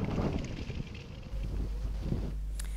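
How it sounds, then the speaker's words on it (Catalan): Strong gusts of wind sweep through Terrassa, violent enough to topple motorcycles, traffic signs and street lamps; a loud, blustery roar buffets the microphone with a constant deep rumble and no voices. "Les fortes ràfegues de vent han tombat motocicletes, senyals de trànsit i fanals"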